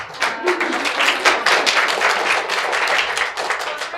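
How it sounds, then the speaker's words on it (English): Clapping from a modest conference audience, individual hand claps clearly separate and close, forming an uneven, lively patter that stays fairly loud throughout before thinning slightly at the end. "Let's applaud everyone"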